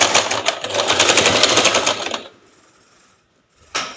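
A sewing machine runs in a fast, steady burst stitching a blouse seam for about two seconds, then stops; a brief mechanical clack follows after a pause.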